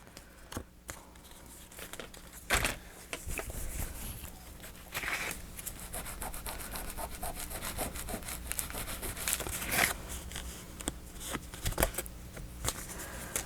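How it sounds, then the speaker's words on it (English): Faux leather is trimmed at an angle, giving repeated short cutting and rubbing strokes with handling rustles, close and fairly quiet, with irregular louder snips throughout. "give that a little cut at an angle so you don't trim through your piece."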